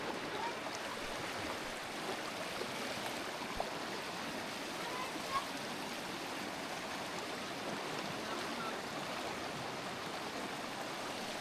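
A strong river current rushes in a loud, steady broadband roar, continuous and close, with no clear voices standing out.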